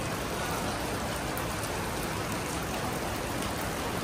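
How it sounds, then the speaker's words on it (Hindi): Steady rain falls outside an apartment building in Hong Kong, a constant, dense hiss of drops without a break, heard alone with no voices. "डेफिनेटली बारिश हो रही है"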